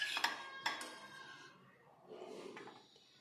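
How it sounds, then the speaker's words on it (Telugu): Cooked cluster beans being transferred onto a plate: two sharp clinks of utensil against dish at the start, then soft scraping and shuffling, fairly close and quiet. "ఈ విధంగా ఉడికించిన గోరు చిక్కులను ఒక ప్లేట్లోకి తీసుకుంటున్నాను."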